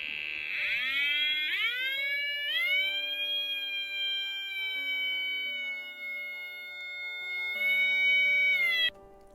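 A Thermo Scientific RadEye radiation detector in Finder mode gives a steady electronic tone that climbs in pitch in stepped jumps, holding each level before shifting, then cuts off abruptly near the end.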